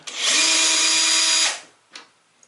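A close power drill driving screws runs in one sustained, loud whir, then stops, followed by a brief clack and quiet.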